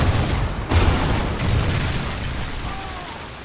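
A Trinity rocket strike from Call of Duty Ghosts lands as a loud rumbling blast that rolls on in a long, dense roar and slowly fades.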